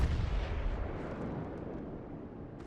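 A naval gun salvo booms in World of Warships, a heavy low rumble that rolls out and fades over a couple of seconds, with no voices over it.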